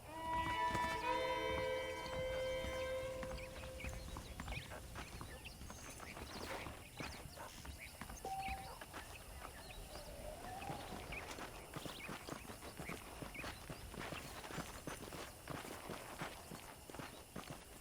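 Horse hooves clip-clop steadily in Red Dead Redemption as the rider moves along, a continuous rhythmic trotting that stays close and fairly loud with game music tones at the start.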